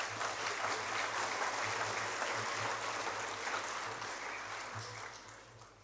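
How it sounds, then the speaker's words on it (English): Sustained applause from a sizeable crowd at a school awards ceremony, steady and dense throughout, thinning slightly toward the end. "Might clap them away as they depart, I think,"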